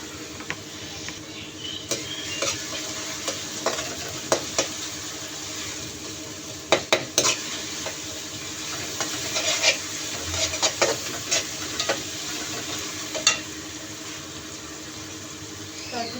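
Continuous low sizzle of ginger garlic paste frying with onions in a pan, broken by occasional sharp scrapes and taps of a spoon against the pan.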